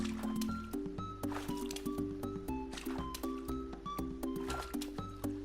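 Splashing game sound of a character hauling out of water and dropping back in, Dreams on PS4, heard as close, repeated wet squishes and drips over a layered, rhythmic musical backdrop.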